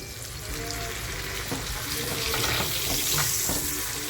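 Dried surmai fish chutney sizzles in a pan over a low gas flame, a steady close crackling hiss with no water added, continuing alone without talk and slightly rising in intensity.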